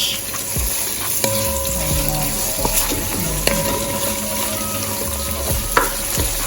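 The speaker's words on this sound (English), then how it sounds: "So I'm putting the onion and sweet peppers now." Chopped onion and sweet peppers sizzle loudly in hot carrot oil, a steady close frying hiss with occasional stirring clinks, while a Jamaican fish dish is being cooked.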